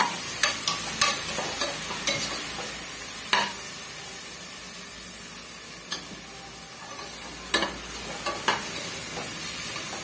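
Ingredients sautéing in a pan for a quick morning kuzhambu, a soft continuous sizzle with scattered sharp clicks and scrapes of stirring, close and moderately quiet, no talking.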